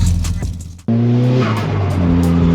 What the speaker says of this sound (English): We're off-roading in the S15 right now.